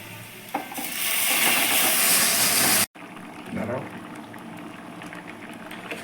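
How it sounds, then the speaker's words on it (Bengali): Lentil dal with fried onion and spinach bubbles vigorously in a pot, a loud close boil for a couple of seconds before a sharp cut to quieter simmering. "ডালটা আমার ফুটে গেছে"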